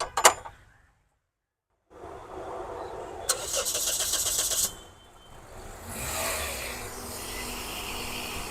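A car engine cranks and catches after a short silence, a loud whirring start that settles into a steady idle, then revs gently upward; no talk over it.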